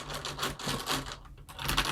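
Rapid, uneven keystrokes clatter on a Roccat Vulcan Pro mechanical keyboard with red linear switches, giving a close, rattly plastic clacking that runs almost nonstop with one short pause.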